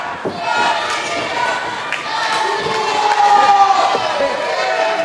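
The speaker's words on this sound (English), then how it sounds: "You people shut up cheering for Anthony Catena." A wrestling show crowd cheers and shouts continuously at steady loudness, with scattered thuds and voices mixed into the dense arena noise.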